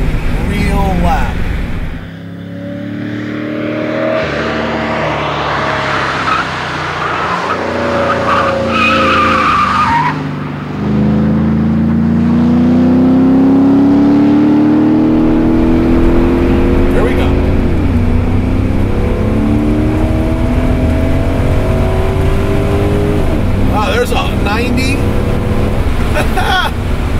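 A supercharged Porsche 928S making about 370 wheel horsepower, pulling hard around a race track, its engine droning loudly and steadily with rising and falling revs and gear changes throughout, close up and continuous.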